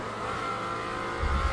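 Tyres rumbling through gravel in a racing video game, a continuous low engine and road drone that swells into a heavier, rougher rumble near the end, with no voices.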